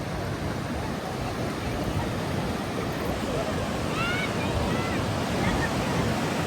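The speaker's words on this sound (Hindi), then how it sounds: "ये देखिए रात का समुद्र का लहरों का नज़ारा।" Ocean waves roll onto Puri beach in Odisha at night as a steady, loud, broadband wash of surf, continuous throughout, with faint high chirps briefly audible in the middle.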